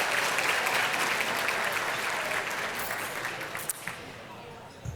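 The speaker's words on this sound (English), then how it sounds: "Another round of applause." A crowd at a Match Day ceremony claps steadily, the applause full at first and then gradually thinning out, with a few scattered claps near the end.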